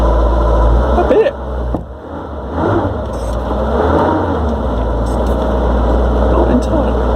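A Dacia car engine runs steadily at close range with a low rumbling drone and a slight rise in revs, while the car is tested for a seized-on handbrake.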